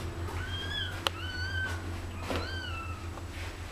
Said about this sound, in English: Where did the cat go?